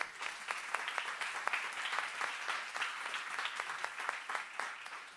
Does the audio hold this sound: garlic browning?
no